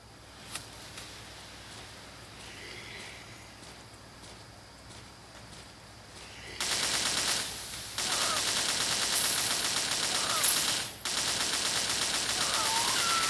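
Gunfire at zombies in the video game Zombie Frontier 4, a faint early shot and then loud bursts of continuous game firing that break off once before resuming.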